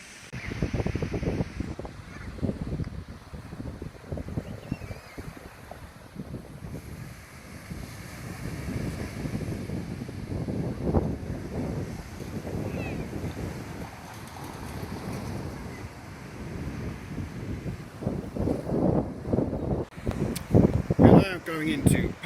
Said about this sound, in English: It's a little bit windy today, as you can probably hear